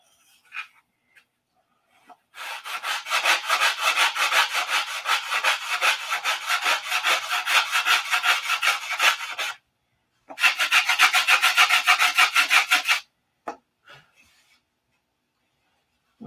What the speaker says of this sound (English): These are balsa wood sanding blocks.